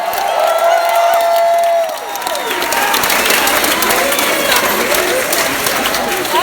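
Applause fills a live rock concert at Mr. Smalls in Pittsburgh, a dense, loud crowd clapping with cheers and whoops that carries on steadily after a sung note fades out at the start.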